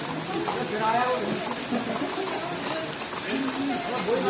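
Heavy rain pours steadily at a hill station temple, a dense broadband hiss of falling water with patter on surfaces, close and continuous throughout.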